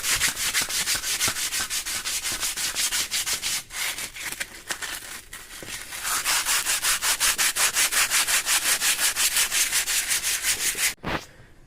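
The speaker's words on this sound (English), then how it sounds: "So I just got a bit of sandpaper. Just going to go around that and clear all that up." Sandpaper rubbed by hand around a Land Rover Defender 200Tdi stub axle, a loud close rasping scrub in fast even back-and-forth strokes, pausing briefly midway and ending with a sharp knock.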